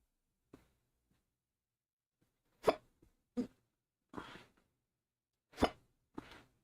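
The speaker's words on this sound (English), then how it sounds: "I have hiccups now." Five or six sharp, isolated hiccups sound close and moderately loud, spaced unevenly by quiet gaps of about a second, with a faint breath at the start.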